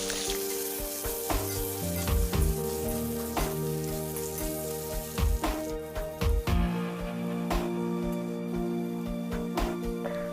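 Cut potatoes fry in hot oil with turmeric and salt, a loud, dense, continuous sizzle with crackling bursts and occasional knocks, close up.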